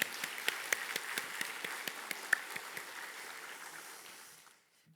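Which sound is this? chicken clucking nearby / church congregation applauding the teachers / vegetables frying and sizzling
church congregation applauding the teachers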